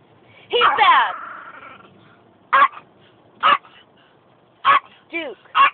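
A Yorkshire terrier barks in short, sharp yips, first a longer burst and then four or five spaced single barks, close and loud indoors, with a person talking nearby.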